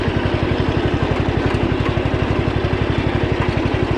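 A lawn tractor engine idles close by, a loud, steady low rumble with an even, rapid pulsing throb that holds unchanged throughout.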